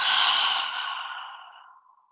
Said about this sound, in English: One more nice deep inhale through the nose and exhale through the mouth